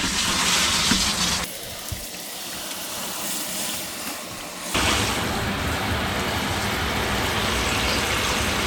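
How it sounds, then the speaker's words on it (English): Water from an RV shower runs in a steady broadband hiss, beginning with a burst, dropping into a muffled stretch, then returning loud and continuous, as a drain clogged to the gray tank starts backing up. "So let's turn the shower on and see what we have."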